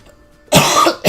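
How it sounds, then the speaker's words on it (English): A single person coughs loudly and close up, a harsh burst lasting about half a second, then a second shorter cough right after, with near silence before. "Excuse me on the coughing there."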